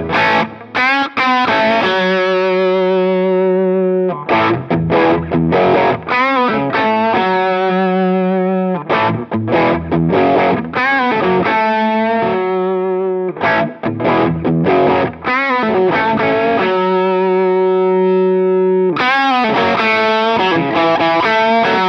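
Electric guitar on the bridge humbucker through a Fender Hammertone Overdrive pedal, with a driven, crunchy tone, plays riffs and sustained chords in bursts separated by short pauses; no voices.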